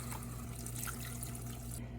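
Water streams steadily into a pot while chili is being cooked, a continuous pouring rush over a low kitchen hum that cuts off near the end.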